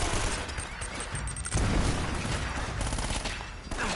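Rapid bursts of submachine-gun fire from a micro SMG in the Uncharted video game, dense and continuous across the clip with booming low impacts mixed in, loud and up close.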